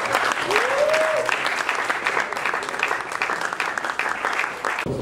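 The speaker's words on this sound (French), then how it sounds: "Est-ce qu'on peut acclamer pour le Seigneur?" A church-style gathering at a music show applauds and cheers for the Lord, with sustained dense clapping, a rising whistle or shout near the start, and voices mixed into the crowd noise.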